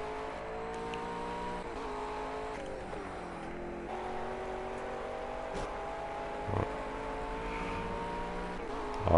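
Racing car engine in a video-game endurance race at Monza, a steady sustained whine with layered harmonic tones shifting slightly in pitch as it holds revs, with a brief sharp knock near the end; no talk.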